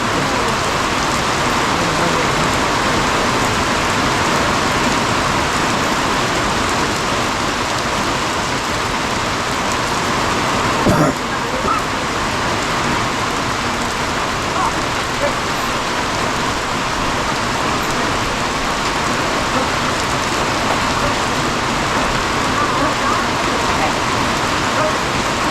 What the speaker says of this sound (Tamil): நல்லா இப்போ இறங்கின மழை நல்லா இறங்கிச்சு